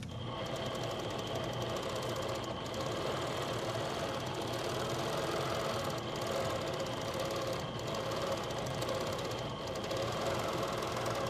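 A sewing machine runs steadily during freehand quilting, a continuous close mechanical hum and rapid needle patter with brief pauses and speed changes.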